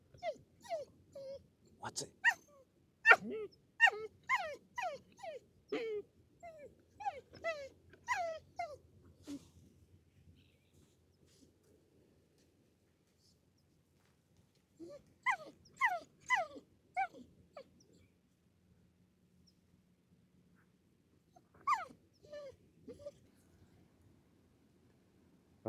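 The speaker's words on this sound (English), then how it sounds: "It's another dog. Definitely another dog." A dog whimpers and whines in repeated bursts of high, wavering yelps separated by silent pauses, close and fairly faint, with a brief spoken question at one point.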